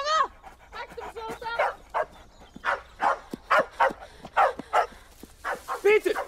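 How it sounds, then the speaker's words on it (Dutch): A dog barks and yelps repeatedly in short bursts during a tense scene, with loud overlapping shouting voices throughout. "Peter, stuur die hond terug"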